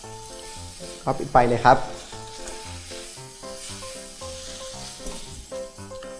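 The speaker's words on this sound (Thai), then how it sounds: "ใส่ใบโหระพานะครับกับใบกะเพราลงไปครับแล้วก็ปิดไฟเลยผัดนะครับให้เข้ากัน" Drunken-style glass noodles stir-fried with sweet basil and holy basil: a brief burst of sizzling and stirring early on, then a soft hiss under background music and a short spoken remark.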